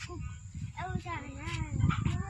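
A puppy at a rural family home gives soft whimpers and whiny yelps, fairly close, mixed with people talking nearby.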